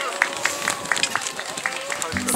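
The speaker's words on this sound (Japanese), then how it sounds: "皆さんもう一度拍手の方をお願いします。" Crowd clapping at a New Year's Day mountain climb, a run of sharp, fairly close claps in a steady rhythm, rising into broader applause near the end.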